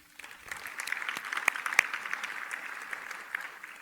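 Clapping from an audience welcoming family members at a speaking event, building quickly into a steady, moderately distant wash of many hands with occasional louder individual claps.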